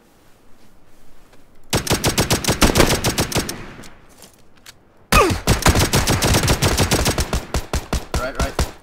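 Automatic gunfire in a shooting video game rips out in two long rapid bursts, loud and close, separated by a short lull.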